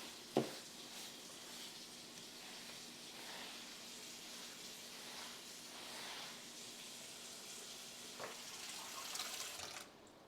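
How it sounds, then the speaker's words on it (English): Tap water runs steadily into a bowl to soak broccoli florets in a kitchen, a faint, continuous, splashy hiss with a brief clunk near the start. "now I'm going to soak that in some water"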